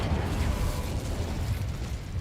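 An Incendio fire spell cast in Hogwarts Legacy, a sustained rumbling, crackling burst of flame that stays loud and close throughout.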